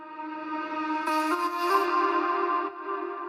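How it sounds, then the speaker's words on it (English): A reversed reverb tail swells up behind a vocal, building a washy, rising smear over sustained tones before cutting off near the end; clear and alone, with no talking. "took that first part of the sound, drenched it in reverb, bounced it in place, and then reversed that reverb so we get this effect"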